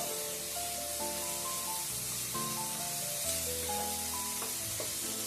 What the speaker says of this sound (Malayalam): ഇനി നമുക്കിതൊന്ന് ഇളക്കി ഇഞ്ചി വെളുത്തുള്ളിയും ചെറിയ ഉള്ളിയും പച്ചമുളകും ഒക്കെ ഒന്ന് വാടി വരുന്നതിനായിട്ട് കൊണ്ട് ഒന്ന് ഇളക്കി കൊടുക്കാം